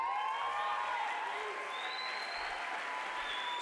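Sustained audience applause fills a graduation ceremony hall, dense and steady throughout, with a few cheers and whoops rising above the clapping.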